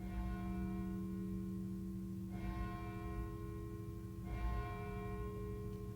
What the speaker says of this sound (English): its bell, which rings from the steeple of Jesu Catholic Church.